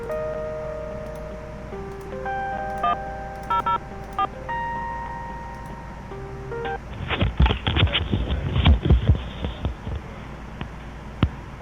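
A telephone sounds as a series of steady electronic beeps and tones at moderate level, followed by a burst of loud clattering and thumping noise before it fades to quiet.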